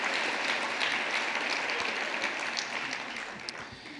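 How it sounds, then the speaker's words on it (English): An audience at an annual air-quality summit breaks into steady applause, a dense wash of clapping from many hands that holds for several seconds and then begins to thin out. "that deserves an applause"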